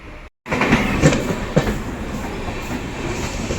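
The long-distance Balurghat–Bathinda Farakka Express rumbles past close by on an Indian line, a steady loud roar of wagons with faint rhythmic wheel clatter after a brief cut.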